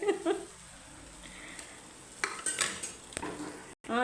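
An omelette fries in a pan with a steady, close sizzle, broken by a few sharp clanks of a utensil against the pan and short scraping stirs.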